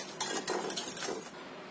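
Eggs and tapioca flour being stirred in a bowl with a utensil give a steady series of scraping, clinking strokes, close and moderately loud, with no talking.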